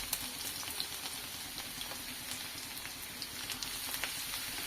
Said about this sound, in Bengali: ব্রাউন করে ভেজে নিচ্ছি।